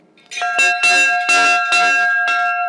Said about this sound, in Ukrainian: Так він у нас дзвонить.